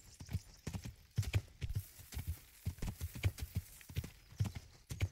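Horse hooves clip-clop in a video game, a brisk, steady rhythm of sharp hoof strikes running continuously, fairly quiet and without any voices.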